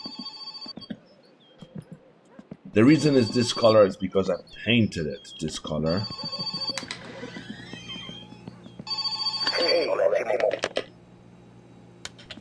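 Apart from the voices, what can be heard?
telephone ringing in the video game My Winter Car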